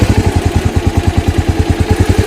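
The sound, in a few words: motorcycle pulling away as the clutch is released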